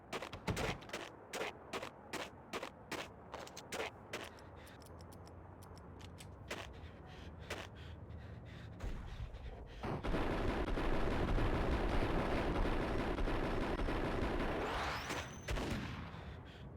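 Rapid bursts of gunfire from the Max Payne video game: a quick run of sharp, loud shots at the start, then scattered single reports and a sustained roaring blast, with no talking.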